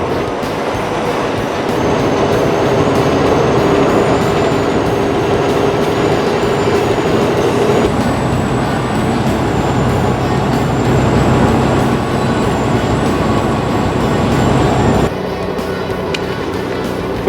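Peterbilt truck hauling 105,000 lbs, a loud continuous engine drone and road rumble from inside the cab, steady throughout with a slight shift in tone partway and near the end.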